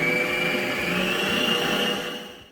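Blender whirring steadily as it mixes cheesecake cream with gelatin, a loud continuous motor whine holding even before slowing and winding down at the end.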